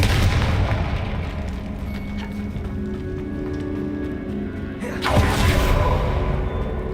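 The Confringo fire spell in Hogwarts Legacy gives off booming explosive bursts over a continuous rumbling game soundscape, with a heavy blast near the end.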